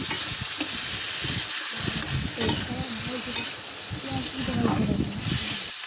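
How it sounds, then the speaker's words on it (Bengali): Sliced onions frying and being stirred in a pan while a Bengali iftar dish is cooked, giving a steady close hiss with scraping strokes; a voice speaks intermittently over the sizzle. "এই তো পেঁয়াজ দিয়ে দিলাম পেঁয়াজগুলো কষানো হয়ে গেলে"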